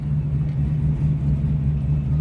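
The engine of a 1969 Chevrolet Camaro rumbles at a steady idle, a deep, continuous, fairly loud throb with no talking over it.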